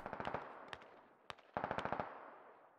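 Automatic gunfire from the Squad military shooter rattles in quick bursts, with a few isolated single shots between, sounding somewhat distant and echoey.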